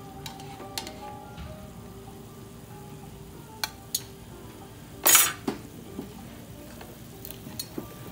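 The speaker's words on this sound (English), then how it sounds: "Still let your juice cook down." Pan juices simmering and reducing for chicken francaise, a low steady bubbling hiss broken by a few sharp clinks of a utensil against the pan, one louder scrape midway.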